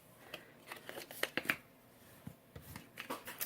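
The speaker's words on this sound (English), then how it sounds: "this one here, we're going to fold it up and burnish our scores with our bone folder" Scored cardstock being folded and burnished with a bone folder, heard as close, crisp paper rustles and sharp creasing swipes, a few louder strokes near the middle and end.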